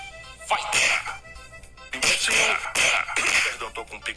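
A man clears his throat several times in quick, rough bursts, loud and close, with a sneeze-like sharpness to each rasp.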